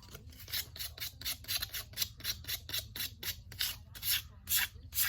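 Sandpaper of 180 grit rubs back and forth over a carved wooden lark sparrow in steady, quick strokes, each pass a soft close rasp repeating about twice a second, with no talk.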